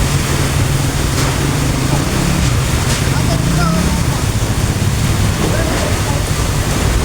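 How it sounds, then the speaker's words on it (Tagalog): Strong typhoon wind roars steadily in Sariaya, Quezon, a dense, loud rushing that never lets up, with people shouting close by over it. "Malakas ang hangin!"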